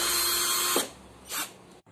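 A power drill whirring while backing screws out of the grille of a Ventisol evaporative air cooler, one sustained close whine that stops, then a second brief burst before falling silent.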